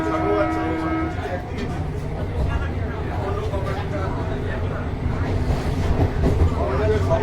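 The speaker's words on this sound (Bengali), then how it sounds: "বিধাননগরে ঢুকে গেছে ট্রেন, আপনারা দেখতে পাচ্ছেন।" Passengers talk over the steady rumble and rattle of an AC local train in eastern India entering Bidhannagar, with a faint horn-like tone near the start; the rolling noise stays loud and continuous throughout.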